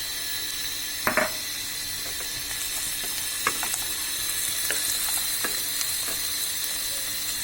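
Beef frying in a pan with chopped garlic, Bangladeshi-style fried beef, giving a steady, close sizzle while a utensil stirs it, producing a few sharp scraping clicks scattered across the hiss.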